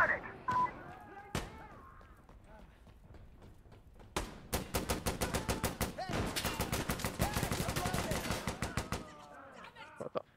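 Rapid automatic gunfire in the shooter game Insurgency Sandstorm, with a couple of isolated shots followed by sustained bursts of rattling fire, fairly close, while players talk over it.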